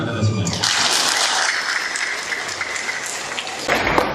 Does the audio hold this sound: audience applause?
yes